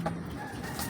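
A pigeon coos and stirs close by outdoors near a small child, a soft brief bird call over light background noise, no voices heard.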